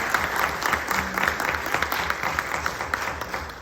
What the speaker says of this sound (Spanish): Un aplauso para ese